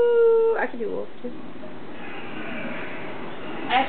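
A person imitates a wolf howl indoors, a long steady voiced tone sliding into wavering yips and whimpers, close and fairly loud, with a short howl rising again at the end.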